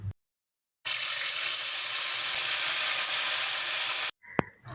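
Cencaru fish frying in hot oil: a loud, steady sizzle that starts abruptly after a moment of silence, runs unbroken for a few seconds, then cuts off, followed by a brief clatter.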